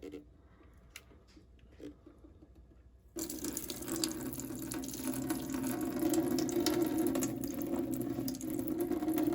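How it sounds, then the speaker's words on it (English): Dirty water pours steadily out of the tank of an iRobot Scooba 200 mopping robot into a sink, a close, continuous splashing stream that starts abruptly after a few quiet seconds of faint handling clicks. "Let's go ahead and dump out this tank and see how nasty that water is."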